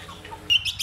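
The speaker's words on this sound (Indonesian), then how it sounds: "Suarane burung" Kept caged songbirds, including a bulbul, give brief high chirps and tweets against a low background hum, with a short bright burst near the end.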